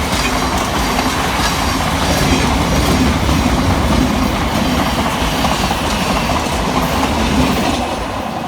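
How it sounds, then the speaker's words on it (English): A Thameslink Class 700 electric train races through a station, making a loud continuous rumbling roar with rhythmic wheel clatter over the rails that stays heavy throughout and eases slightly at the end, with no voices. "Passing fast through the station for Gavir Thameslink is 700-122"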